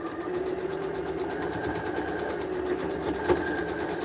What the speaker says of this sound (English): You do have to know how to operate a sewing machine.